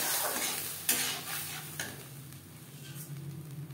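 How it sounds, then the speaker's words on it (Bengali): Boiled matar dal (yellow split peas) tipped into a hot pan for a bitter gourd dal, with soft steady sizzling and a few scraping stirs and clinks of a spoon against the pan. "এই পর্যায়ে দিয়ে দেব সেদ্ধ করে রাখা মটর ডাল"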